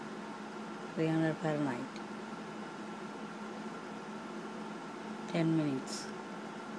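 An air fryer running at 300 degrees Fahrenheit gives a steady, soft fan whir throughout, while someone speaks briefly twice over the hum.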